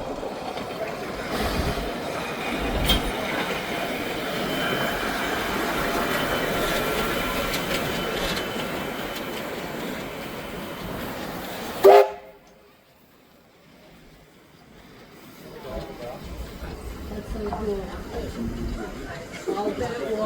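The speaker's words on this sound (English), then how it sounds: "instead of pushing the train they'll pull the train back to Thirlmere" A train pulls away from Thirlmere train museum with a steady rumble and rail clatter for about twelve seconds. A sharp clank cuts it off, leaving quieter ambient noise that slowly builds again.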